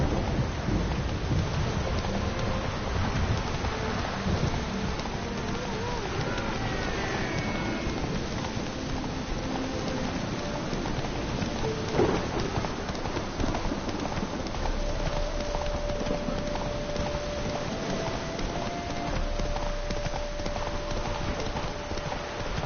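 A horse gallops in The Witcher 3, its rapid clip-clop hoofbeats running continuously under a dull rumble of wind or rain and game ambience, at moderate loudness with no speech.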